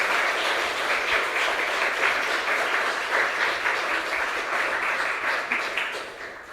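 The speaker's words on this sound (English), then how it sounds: "Give a round of applause to our guides." A church congregation applauds steadily during a Sunday service, a dense, sustained wash of clapping from many hands that holds for several seconds and then begins to thin and fade toward the end.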